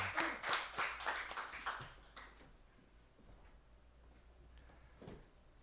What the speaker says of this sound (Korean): 우리 하나님께 영광의 박수를 올려드립시다